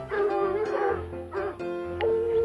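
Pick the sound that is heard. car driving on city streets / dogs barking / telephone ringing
dogs barking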